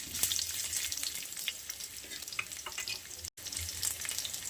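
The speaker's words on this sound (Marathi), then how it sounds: "आणि आता अद्रक पण तळून घेणार आहे आपण ह्याच्यात." Ginger fries in a pan for a spice paste, an even close sizzle and crackle with light stirring, broken by one brief gap.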